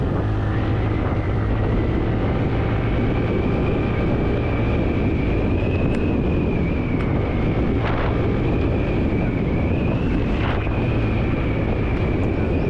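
A TVS NtorQ 150 scooter is ridden aggressively, its engine giving a steady droning whine that rises and falls slightly, heavily buffeted by loud wind noise on the microphone throughout, with no talking.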